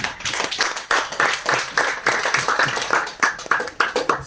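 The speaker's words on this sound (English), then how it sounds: "so let's clap for Kingsley." Audience clapping at a climate change and environment session, a steady patter of hand claps filling the room over several seconds, close and fairly loud.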